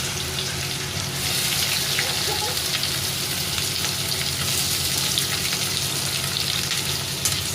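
Onions dropped into hot oil with garam masala in a wok, frying with a steady, close sizzle that swells after a second and hisses on evenly, with faint stirring scrapes.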